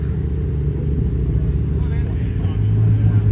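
A blue McLaren GT sports car at a Goodwood breakfast meet gives off a close, low engine rumble that swells slightly toward the end while a voice talks over it.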